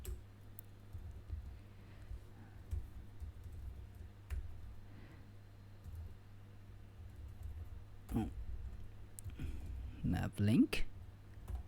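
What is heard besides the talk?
typing on a computer keyboard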